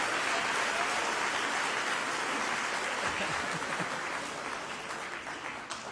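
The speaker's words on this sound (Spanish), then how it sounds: "Denle un aplauso a esas mujeres de Dios." Applause from a church audience, a dense wash of clapping that stays steady and then gradually fades toward the end.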